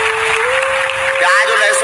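Audience applause during a religious talk, a steady wash of clapping lasting under two seconds with a sustained tone running underneath.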